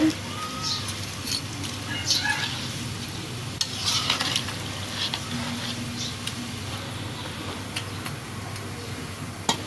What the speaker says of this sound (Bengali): মাছগুলো দিয়ে হালকা করে মিশিয়ে নেব।